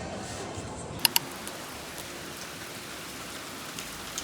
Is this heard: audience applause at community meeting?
no